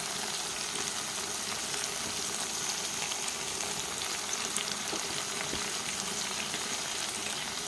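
Cucumber pieces frying in a pan for a village-style chutney, a continuous close crackling sizzle that holds steady without pauses.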